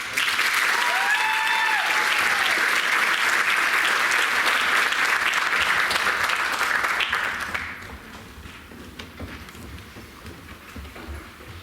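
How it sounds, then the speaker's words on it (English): Loud, steady applause from a crowd at a high school senior achievement ceremony, sustained for several seconds before dropping off to a quieter murmuring room. "Another round of applause."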